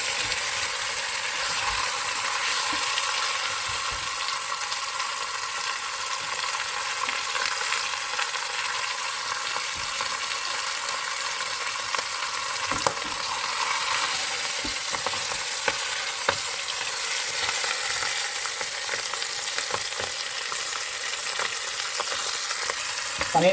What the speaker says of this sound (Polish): teraz muszę obsmażyć golonkę. Na takim wolnym ogniu, żeby się nie spaliła od razu